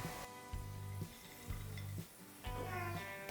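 Chicken pieces frying in hot oil in a pan for restaurant-style chicken noodles, a faint steady sizzle broken by a few slow rounds of stirring with a utensil scraping and clinking against the pan.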